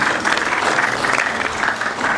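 An audience at a launch ceremony in a hotel in Islamabad gives a short burst of steady, dense applause, close and fairly loud throughout.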